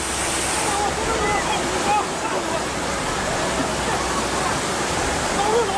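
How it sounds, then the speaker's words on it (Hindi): Floodwater rushes through China in a loud, continuous roar of churning water that holds a constant, close, noisy wash from start to finish. "चीन में चारों तरफ पानी से प्रलय आ गया है।"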